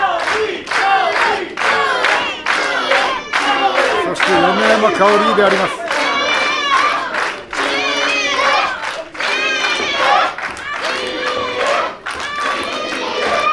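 A wrestling crowd at Shinjuku Face roars and cheers loudly throughout, with shouts and clapping, while an excited commentator talks over the noise.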